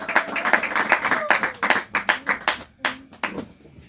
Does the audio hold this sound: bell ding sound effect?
no